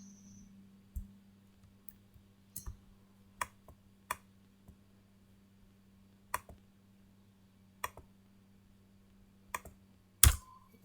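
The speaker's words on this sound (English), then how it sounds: "Now I'm typing the same skills again." Irregular, crisp clicks of typing on a computer keyboard, a few keystrokes at a time with pauses between, over a steady low hum in a quiet room; one louder clack near the end.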